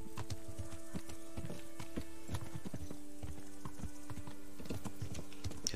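Horses trotting in the medieval role-playing game Kingdom Come: Deliverance, steady overlapping hoof clip-clops on a hard road beneath a droning background, continuous for several seconds with no talk.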